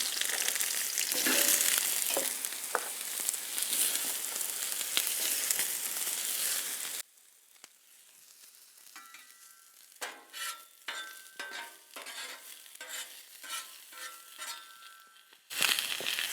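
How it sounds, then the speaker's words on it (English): Onions frying in oil on a Blackstone griddle, a loud broad sizzle for several seconds that drops to quieter crackling with scraping and clinks, then a burst of sizzle returns. "So I'm going to put a little oil down here for the onions."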